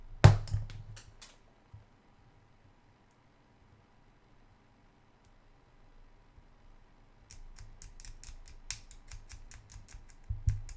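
Scissors or clippers snip through miniature model parts for a Feudal Guard conversion: a few sharp close clicks at the start, quiet in between, then a run of rapid snipping and clicking near the end.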